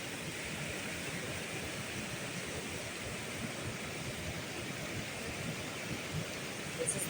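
Roaring waterfall at Gut Conservation Area running with very high water, a dense steady rush that fills the whole scene from start to finish with no break.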